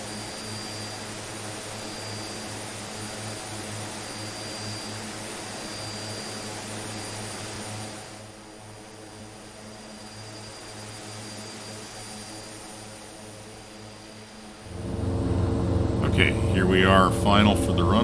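Steady drone of the twin turboprop engines of a DHC-6 Twin Otter in a flight simulator game, thinning as power is pulled back on approach and then swelling louder near the end, with someone talking over it.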